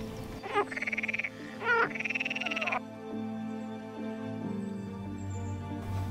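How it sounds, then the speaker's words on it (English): A pool frog croaks in two rapid, rattling bursts close by, then calm ambient music continues beneath without further calls. "A pool frog, the smallest of all green frogs,"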